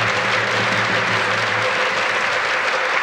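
Studio audience applause on a 1990s Taiwanese variety show, a continuous dense wash of clapping at steady loudness throughout, close and full, with no voices over it.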